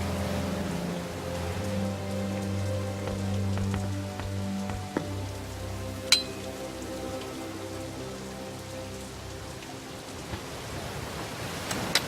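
Steady rain falls in a video game scene from The Dark Eye: Chains of Satinav, a dense, even hiss of drops on surfaces with a low ambient hum beneath, continuous and close, with no one talking.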